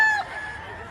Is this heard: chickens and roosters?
yes